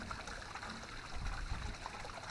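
A pond pump pushing water into a garden pond, giving a soft, continuous trickle and gurgle, faint and steady with a slight low rumble underneath.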